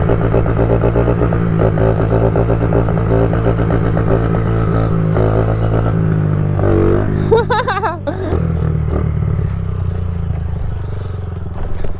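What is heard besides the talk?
Honda CRF50 pit bike engine running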